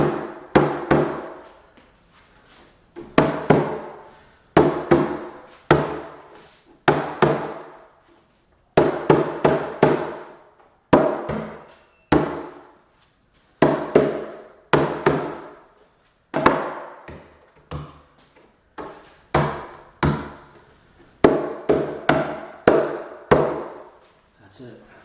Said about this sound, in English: Gentle taps on these 6 points where the wooden pegs are.